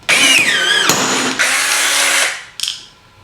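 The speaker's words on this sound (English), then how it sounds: "that's the operation of the PT4000 cordless riveter" A PT4000 cordless riveter whirs loudly in bursts, a sharp snap breaking the motor run, then a second long drive that winds down, followed by a small clatter and a brief spin near the end.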